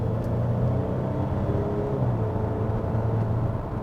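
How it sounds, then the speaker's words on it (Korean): A Volvo XC40 B4 SUV with a turbocharged mild-hybrid engine accelerating on a road, heard as a steady, close engine rumble and whir with a slight rise in pitch, with no voices. "가속 페달 잠깐만 좀 밟아볼게요."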